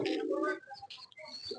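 A pigeon coos softly in short low calls at close range, with a few faint higher chirps between them and no clear talk over it.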